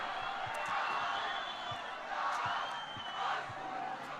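Hostile schoolboy rugby crowd at a Hilton College versus Maritzburg College 1st XV match in 2019, a broad continuous roar of voices with shouts rising and falling throughout, with commentary talk over it.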